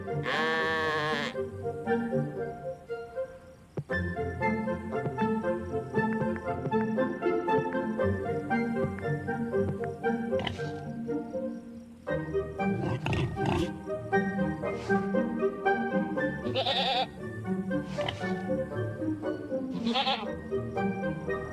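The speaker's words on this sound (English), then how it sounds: "The sheep wake in the morning." Sheep bleat again and again in the morning, several animals calling loudly and close by, their cries overlapping with brief pauses between.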